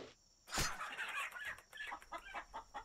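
A hen clucks repeatedly in the Legend of Mir MMO, a clear burst followed by a run of short, rhythmic clucks close by, with no talk over it.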